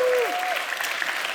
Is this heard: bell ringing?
no